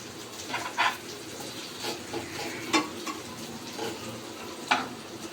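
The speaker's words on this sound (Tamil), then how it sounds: "நல்லா எண்ணெயில் நல்லா ஃப்ரை ஆகும்" Brinjal curry (kathirikai kari) fries in oil in a pan with a continuous close sizzle broken by occasional pops and light stirring clicks, with no one speaking.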